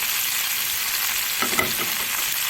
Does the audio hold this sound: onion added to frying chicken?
yes